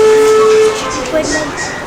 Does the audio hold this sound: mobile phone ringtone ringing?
no